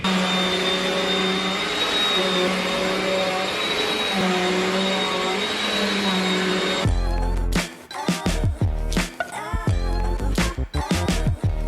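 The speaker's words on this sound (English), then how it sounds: "I recently got this new vacuum because ours was old and I just wanted a new one" A Bissell Plainview Compact vacuum cleaner runs on upstairs carpet, a loud steady motor whine that shifts to rough, choppy roaring bursts as it is pushed back and forth, with no talking.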